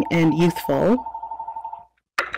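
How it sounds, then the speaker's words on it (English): A telephone rings in the background of an online conference talk, a rapid pulsing bell tone that continues under a speaker's voice and fades before a brief pause. "excuse the phone ringing in the background"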